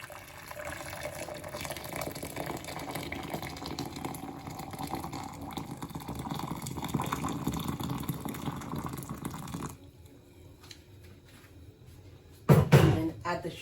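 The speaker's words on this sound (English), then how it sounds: "So I've got boiling water here. I'm going to add that into the jug." Boiling water is poured into a jug for semolina halwa, a continuous rushing pour that runs for about ten seconds, then stops, followed by a couple of sharp clinks.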